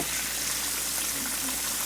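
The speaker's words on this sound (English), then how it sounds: "like that frying noise" A dense, steady sizzle and crackle of chicken frying in hot oil, loud and close, without pause.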